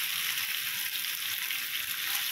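Beef frying in a pan for beef with broccoli and mushroom, giving a steady, close, hissing sizzle that holds evenly from start to end with no talk over it.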